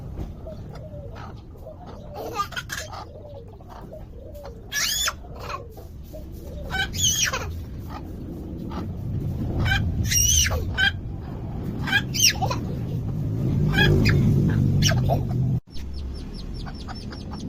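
Backyard chickens cluck and squawk in short bursts, scattered across the scene with some louder calls near the microphone, over a low rumbling background.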